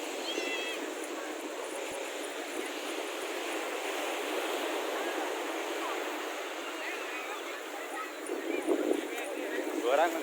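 Sea waves wash ashore at Kakinada beach, a steady broad roar of surf throughout, with a louder surge near the end and people talking faintly over it.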